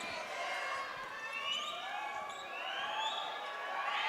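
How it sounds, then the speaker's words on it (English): Spring Hill student section crowd cheering at a girls' basketball game against St. Thomas Aquinas, a steady roar of many voices with rising whistles and shouts, sustained and loud throughout. "Spring Hill crowd making some noise again."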